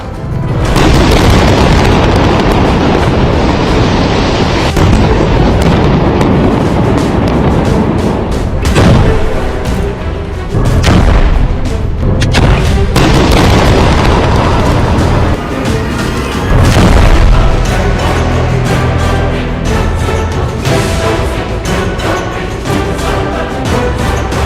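Heavy explosions from Israeli air strikes on Hezbollah positions in Lebanon boom loudly and continuously, with dense rumbling blasts, bursts and sharp cracks layered over one another and no quiet gaps.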